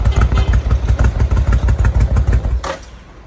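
A Suzuki VL 1500 motorcycle that has sat unused for a long time runs close by, its loud, rhythmic engine pulses thumping steadily before the sound drops away near the end.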